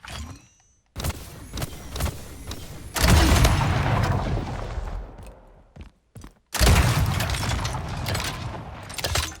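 A launcher weapon firing in the shooter game Splitgate, heavy booming blasts with rumbling explosions and mechanical clatter, loud bursts separated by short gaps.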